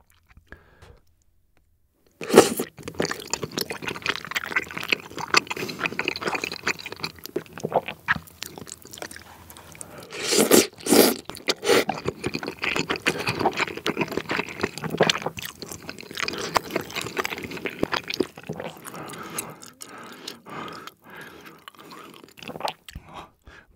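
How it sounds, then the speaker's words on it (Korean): Close, loud chewing and biting of spicy tteokbokki rice cakes ordered from Yeopgi Tteokbokki, with wet, squishy mastication and occasional crunchy bites continuing steadily after a short silence, no talking. "이번에 엽기 오뎅을 시켜봤는데 일단 떡을 좀 먹어볼게요"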